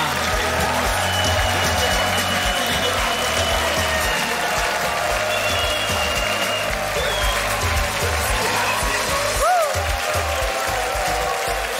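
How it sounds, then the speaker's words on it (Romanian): A studio audience applauds Sister Magdalena's entrance on a Romanian TV show: loud, dense clapping with a few scattered whoops that runs unbroken from start to finish, while faint tonal sounds drift underneath. "haideți cu un puternic de aplauze pentru sora Magdalena"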